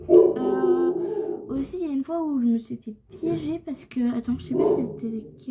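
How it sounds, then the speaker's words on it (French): A pet dog barks and whimpers indoors in short, whiny bursts, heard close by and overlapping a woman's ongoing chatter. "Désolée, c'est mon chien."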